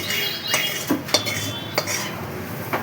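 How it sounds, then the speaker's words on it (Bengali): Fried rice grains scooped from a hot pan into a bowl, giving several sharp metallic scrapes and clinks of a spoon against cookware over a light sizzling hiss, close and moderately loud, with no talk. "এবার চালটা বাটিতে নামিয়ে রাখবো, এই যে নামিয়ে রাখছি"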